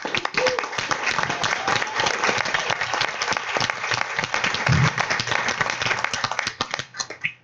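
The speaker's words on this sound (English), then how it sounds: "This is a tremendous group of students, and let's give them a big round of applause." At a school board meeting, an audience gives a big round of applause for a group of national runner-up students, dense steady clapping filling the room before thinning out at the end.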